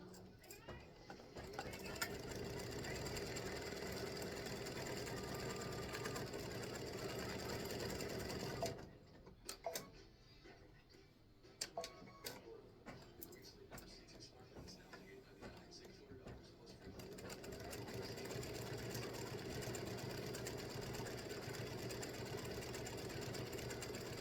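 An embroidery machine stitches the bases and pitcher's mound of a baseball tic-tac-toe set with a rapid, steady mechanical chatter that drops away partway through, then resumes more loosely and picks back up toward the end.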